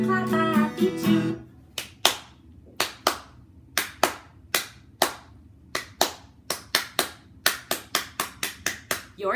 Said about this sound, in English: let's clap a happy tune